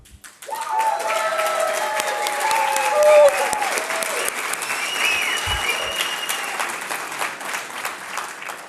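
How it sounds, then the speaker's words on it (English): Applause and cheers from the audience at the Putting Grasslands to Work conference, rising quickly into loud, sustained clapping with whoops and shouted cheers over the top, then holding steady. "I would like to hear from you with noise, applause, cheers, or silence."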